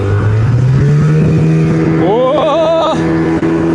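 An outboard motor on a fishing boat runs steadily, then revs up with a rising whine. A man gives a short exclamation over the engine.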